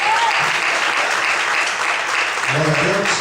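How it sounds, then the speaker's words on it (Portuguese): Church congregation applauding, a loud, sustained wash of clapping with voices calling out over it near the end. "Pode aplaudir Jesus por isso?"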